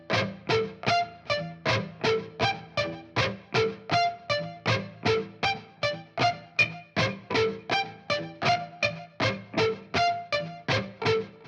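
Slow, evenly spaced palm-muted electric guitar notes with short, muted attacks and gaps between them, repeating steadily in a rhythmic lick.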